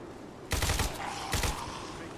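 Two bursts of rapid gunfire from the Fallout 4 video game, modded, sound close and loud: one sustained volley followed by a shorter one after a brief pause, over steady background game noise.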